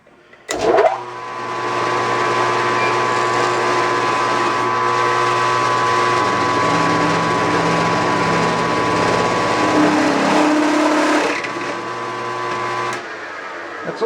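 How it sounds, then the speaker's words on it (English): A power drill whines steadily through steel for about ten seconds, a loud continuous mechanical drone that starts abruptly and then winds down. "And I think we're ready to drill here."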